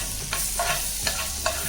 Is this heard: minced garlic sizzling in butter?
yes